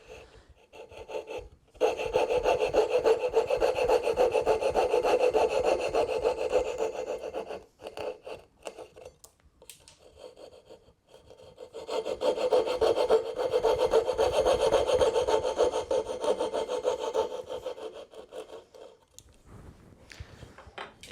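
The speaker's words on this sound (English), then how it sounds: "I'm going to use my fret saw here just to remove this waste." A fret saw cuts waste from a hand-cut wooden half-blind dovetail joint, with two long stretches of steady, close rasping strokes separated by a quieter pause and a few brief knocks.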